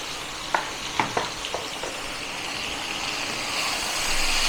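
Chili powder and Kashmiri red chili powder with spices sizzling in hot oil for a Bengali rui fish curry with drumsticks, a steady close fry with a few sharp stirring taps early on and no talk.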